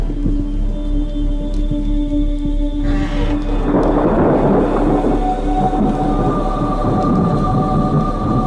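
A night thunderstorm: a heavy rolling rumble of thunder swells midway and lingers, broad and loud, over a constant low drone and faint sustained tones.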